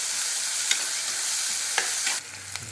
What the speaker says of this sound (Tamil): நல்லா வதக்கிடணும்